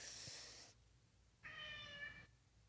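A white cat meows indoors, two drawn-out calls separated by a short pause, close and fairly soft.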